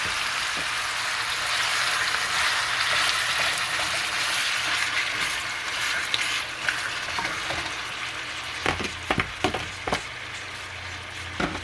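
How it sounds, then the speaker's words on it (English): Beef for stew goes into a hot pot and sizzles in a steady, close hiss, with a few sharp clatters and scrapes near the end and no talk. "I'm putting the whole meat into this pot just like this."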